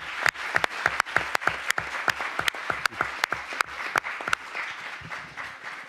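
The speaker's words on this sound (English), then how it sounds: "so that we can contribute an applause to her" Sparse, distinct handclaps ring out in an irregular rhythm, a small group applauding in a quiet room at an antitrust conference.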